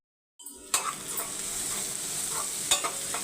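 Tempering for vada curry frying in hot oil, a steady close sizzle that starts abruptly, with a few clinks and scrapes of a stirring spoon against the pan.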